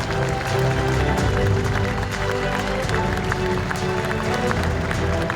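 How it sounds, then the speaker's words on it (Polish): Audience at a cultural awards ceremony applauding honorees, a sustained wash of many hands clapping over low background sound, steady and fairly loud throughout. "Wielkie brawa!"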